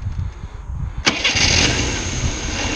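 A 1988 Moskvich 2140 car engine cranks and catches with a sharp start, then settles into a steady, loud mid-pitched idle close by.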